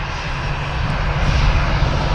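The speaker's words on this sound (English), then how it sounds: "Just a Lufthansa A320 here." A Lufthansa Airbus A320 at Manchester Airport, a steady broadband roar of jet engines, fairly loud and unbroken, with no voices.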